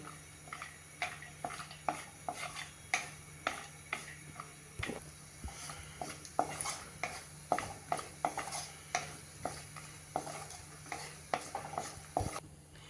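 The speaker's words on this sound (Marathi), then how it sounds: "तुपामध्ये आपण हे कट करून घेतलेले ड्रायफ्रुट्स घालूया आणि ते थोडेसे आपल्याला परतून घ्यायचे" Chopped dry fruits sauté in ghee in a pan as a spoon taps and scrapes against the metal in a steady rhythm of clicks, with a faint sizzle underneath at close range.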